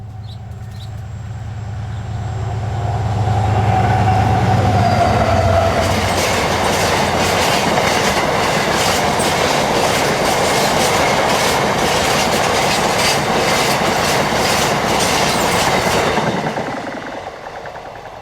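Class 70 locomotive 70009 hauls freight train 6S29 past Looker, rumbling in from a distance, then a long steady clickety-clack of wagons rolling by close with faint wheel squeal before fading away.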